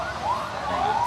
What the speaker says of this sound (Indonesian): ini banyak ambulan yang lewat